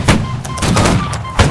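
Musket volley in the game Holdfast: Nations at War during a line battle, a few loud, booming shots scattered irregularly over a dull rumbling background.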